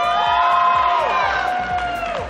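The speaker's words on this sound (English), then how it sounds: "If you're here supporting Chica, make some noise." A live crowd at a DoorDash Battle of the Brands finals cheers, shouts and whoops loudly, a dense sustained roar of voices with high shrieks sliding over it, fading slightly toward the end.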